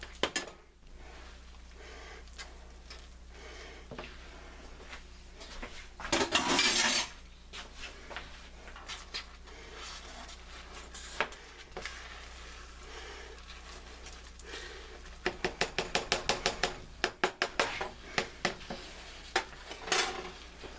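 A spoon scrapes and clinks against a pot while pumpkin pasta with arugula is stirred, with scattered knocks and two busier bursts of rapid metallic stirring, close and moderately loud in a quiet kitchen.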